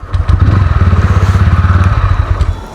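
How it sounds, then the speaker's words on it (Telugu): A TVS Ronin 225 motorcycle engine starts and settles into a steady, loud, close idle with a rapid, even thumping pulse that lasts nearly three seconds before easing off slightly at the end. "let's crank up the engine"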